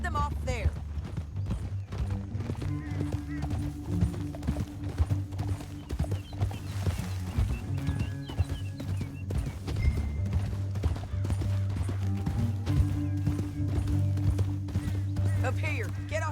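Horse hooves clip-clop in a steady walking rhythm on a canyon trail in Red Dead Redemption 2, with an occasional snort, under continuous game dialogue and a low music bed.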